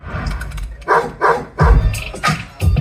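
Dogs bark in short, loud bursts at a film event in an Ahmedabad cinema, several sharp barks spaced irregularly across a few seconds, close and prominent.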